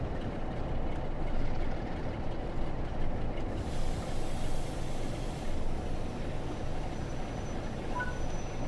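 The steam locomotive County of Somerset passing in the video game Train Sim World 4, a loud, sustained rumbling roar of rolling stock that holds steady throughout, with no talk.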